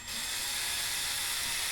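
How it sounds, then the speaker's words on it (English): A power drill bores a small pilot hole through a metal Frontrunner tailgate table, giving a steady, loud, high-pitched whine that holds unbroken for under two seconds. "Drill right through that one."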